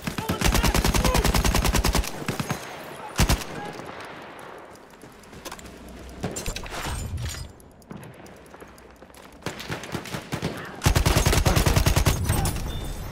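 Bursts of automatic weapon fire from Battlefield 1 rattle loudly in rapid rhythm, pausing between volleys amid battlefield noise, with a single sharp shot and a long final burst.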